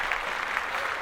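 An audience gives a brief, fairly quiet burst of clapping during a live comedy podcast taping, a short round of applause for the show Watchmen.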